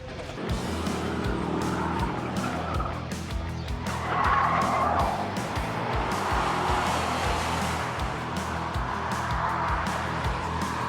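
A car drives fast around a race course in light rain, its engine droning steadily with tire noise and a brief squeal midway, heard continuously from close by with no clear talk.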